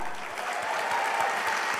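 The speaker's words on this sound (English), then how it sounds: "So one more round of applause for Matt." Audience applause at a banquet honouring a National Anthem singer, steady dense clapping filling the hall throughout, moderately loud with no voices over it.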